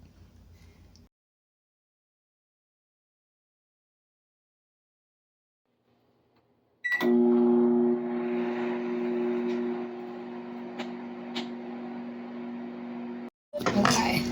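A microwave oven hums steadily while reheating a bowl of Hot and Spicy Fire Wok Volcanic Mongolian Beef instant noodles. The hum starts abruptly after a quiet stretch, stays close and even, and briefly cuts out before resuming.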